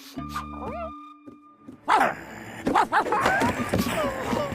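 A dog barks and yips in a cartoon scene, several sharp close barks in quick bursts after a musical tone, with other sounds layered around them.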